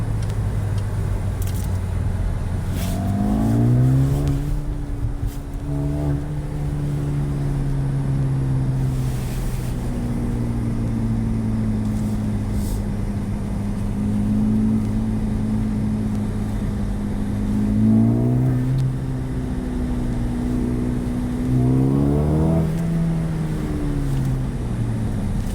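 A Mercedes-AMG CLA engine drones steadily at low revs, then rises and falls in several rev swells over a long stretch, with a constant rumble throughout and no speech.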